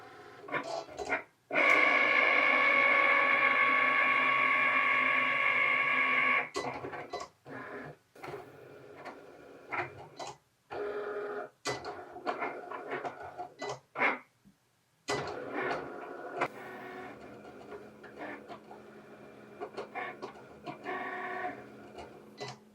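A Cricut Explore Air 2 cutting machine cutting vinyl for a bathroom sign: a sustained mechanical whir, then intermittent clicks and motor movements as the carriage shifts, nearby with no talking.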